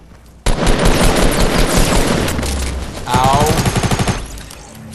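Gunfire in Fortnite: Battle Royale, a loud sustained burst of rapid automatic shots starting abruptly, then a faster rattling volley near the end, with a brief pained voice over it.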